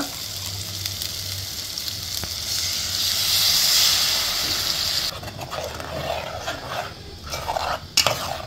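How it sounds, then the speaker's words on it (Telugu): Water poured from a masala bowl into chicken masala in a hot cooking pan, with a loud hiss and sizzle that swells and then eases, followed by spoon scrapes and clinks against the pan. "మసాలా గిన్నె ఉంది కదా, అందులో నీళ్ళు యాడ్ చేసి దీంట్లో వేసేస్తాం"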